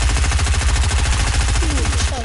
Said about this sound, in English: No, shooting at the wall.